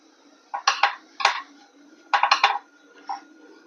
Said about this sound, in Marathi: आपल्याला ह्या गाठी मोडत मोडत हे पीठ भाजून घ्यायचं आहे